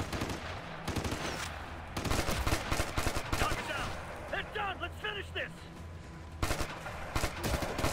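Gunfire in the shooter video game Ghost Recon Future Soldier crackles in rapid automatic bursts, loud and close, with brief pauses between volleys, while someone talks in the middle.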